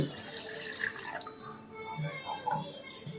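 Water pours and splashes into a glass in a home kitchen while herbal Tanner's cassia flower tea is being made, a steady trickling stream with small drips rising and falling over about three seconds.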